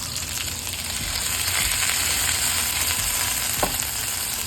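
Ground beef sizzles and fries steadily in a pot for hamburger vegetable soup, a continuous close crackle with a brief stir or scrape near the end.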